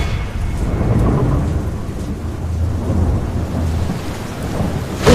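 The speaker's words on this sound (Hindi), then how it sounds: "उसी रात मूसलाधार बारिश के बीच" Torrential rain pours steadily at night over a flooded village while thunder rumbles low and continuous, with a sharper crack of thunder near the end.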